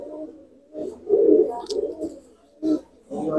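Small pigeons with clipped wings coo while being held in the hand, several low throaty bursts close by, broken by short pauses.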